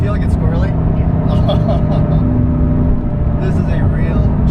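A loud Mercedes-AMG GT S engine rumbles close by with a revving shift in pitch as it downshifts, while people talk over it.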